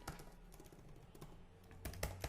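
Computer keys are tapped in quick, uneven bursts while someone writes a Facebook post, soft and fairly close with a quiet room behind, and a faster cluster of clicks near the end.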